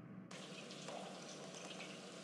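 Water rushes steadily and close after a sudden start, a continuous gushing flush of a toilet lasting a couple of seconds with no voices.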